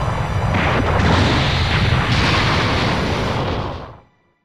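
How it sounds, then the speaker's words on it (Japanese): A huge explosion from the Earth being destroyed in the Dragon Ball Xenoverse 2 video game roars as one loud, sustained rumbling blast before cutting off abruptly into silence. "もう少しで地球の爆発に巻き込まれる"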